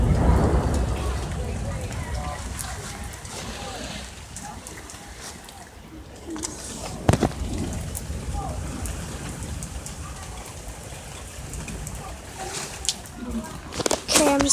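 A heavy thunderstorm pours down on 6-26-17, dense rain hissing on surfaces throughout, with a sharp crack midway and low rumbling, while voices speak briefly near the microphone.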